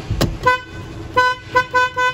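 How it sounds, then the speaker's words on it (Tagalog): The horn of a Fuso Fighter truck toots in several short, bright bursts, close by, with a lighter chirpy tone and brief gaps between the honks. "Cute ng busina."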